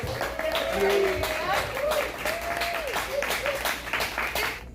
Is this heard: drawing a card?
no